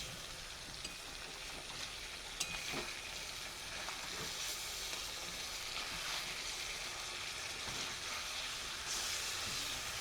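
Marinated chicken pieces frying in a pan of ghee and oil, a quiet, steady sizzle with faint crackles throughout and no talking.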